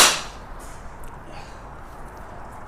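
A golf driver, either a Callaway Ai Smoke or a Ping G430 Max 10k, strikes a ball once with a loud, sharp impact at the very start that fades quickly into quiet outdoor ambience.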